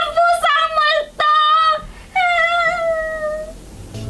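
A human voice imitates a cat meowing with several drawn-out, wavering mews, loud and close, the last one long and trailing off.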